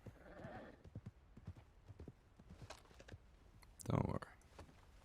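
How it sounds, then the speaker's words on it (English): Several horses' hooves clip-clop at a moderate distance in Red Dead Redemption 2, irregular, fairly faint footfalls with a brief loud burst near the end. "Sounds like a lot of horses."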